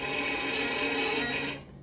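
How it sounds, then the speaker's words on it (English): A violin bowed with a scratchy, growly, choked tone: one sustained, harsh, noisy stroke that is loud and close and cuts off just before the end. "So that's basically a scratchy sound"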